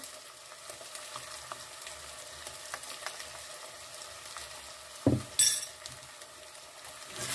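Spices are stirred into soup in a single pot, a low simmering fry under scattered spoon scrapes and clicks, then a couple of louder knocks against the pot near the end, with no speech.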